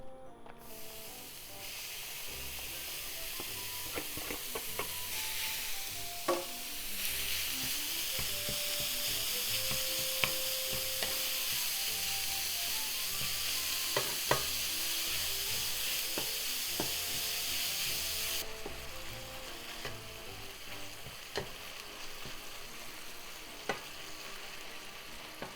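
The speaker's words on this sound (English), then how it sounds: "In the same frying pan, let's cook the meat and onion." Meat and onion cook in a frying pan with no oil, giving a bright continuous sizzle and hiss, with scattered clicks and scrapes of stirring and a faint tonal whine in the background.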